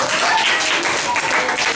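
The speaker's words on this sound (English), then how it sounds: "Give yourselves a round of applause." Classroom of junior high science students claps together, a dense, steady patter of hands for under two seconds at close range.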